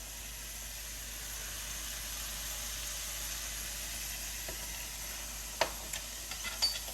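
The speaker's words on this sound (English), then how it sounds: "Here we're turning the meatballs, and they're cooking up beautiful." Swedish meatballs frying in a pan give a steady, fairly quiet sizzle throughout, and toward the end a few light clicks and scrapes come through as they are turned.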